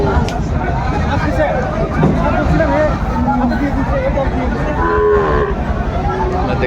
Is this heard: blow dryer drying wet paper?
no